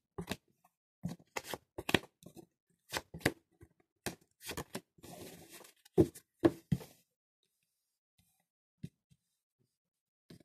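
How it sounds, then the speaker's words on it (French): Tarot cards are spread out on a table in a series of soft, close slaps and brushing slides, irregular taps clustered together, then a few isolated placements with quiet gaps. "j'étale les cartes"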